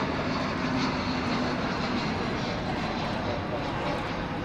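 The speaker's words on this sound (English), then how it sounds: "Got a flight rolling in here." An airliner rolls for takeoff at Dallas Fort Worth Airport, its steady engine roar filling the scene at a distance while a person talks over it.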